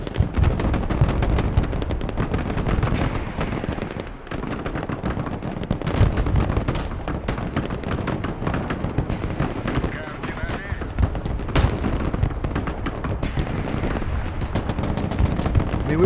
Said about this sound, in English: Let's reposition this artillery fire here.